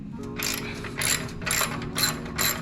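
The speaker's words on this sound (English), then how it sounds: "you're gonna need a 9/16 socket. Go ahead and loosen this up a little bit." A hand ratchet fitted with a 9/16 socket loosens exhaust bolts on a Harley-Davidson Low Rider ST, making five loud, close bursts of rapid clicking separated by short pauses.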